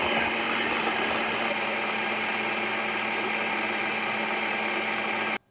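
A mixer runs steadily through tart dough while cubes of cold butter are dropped in, a constant, even motor whir that cuts off abruptly at the very end.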